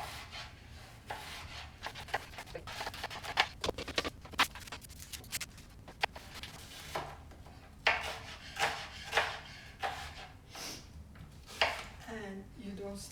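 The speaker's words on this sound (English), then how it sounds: "So you cut the onions in fourths and then slice them thinly" Knife repeatedly slicing quartered onions thinly on a cutting board, a steady patter of chops and rubbing strokes at close range, with a person talking over much of it.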